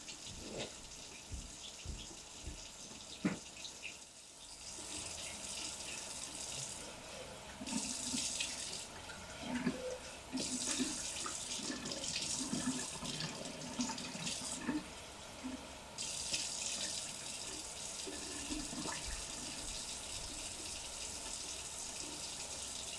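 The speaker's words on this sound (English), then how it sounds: "So let's quickly rinse this coffee thermos out." Tap water runs steadily into a coffee thermos at a kitchen sink, a continuous close gushing stream that swells and changes tone as the flask fills and is swirled, with no talking.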